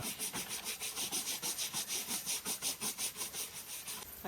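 A chair is wiped down with a wet cloth during household deep cleaning, giving fast, rhythmic rubbing strokes that repeat evenly and close up, quiet overall, with no voices.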